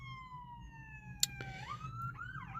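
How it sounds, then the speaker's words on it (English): An ambulance siren wails past at a distance, its steady tone sliding downward and then rising again, faint under low background hum, with one short sharp click partway through. "there's an ambulance going by"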